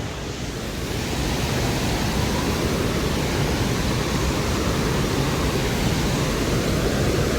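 Water rushing steadily down a waterfall in cool open air, a dense continuous roar of flowing water that holds even and loud throughout with no voices over it.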